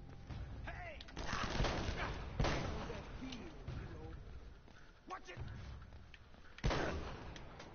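Gunfire from a weapon in the action game Uncharted: Drake's Fortune: a few loud, sharp shots spaced several seconds apart over a rumbling battle background.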